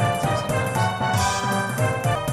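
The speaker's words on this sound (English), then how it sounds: "it's like that sound is a cymbal, which you hit the cymbal, then you grab it." Busy Paper Mario game music carries a cymbal that is struck and then quickly choked by hand, a bright splash cut short over dense, steady instrumental backing with no talking.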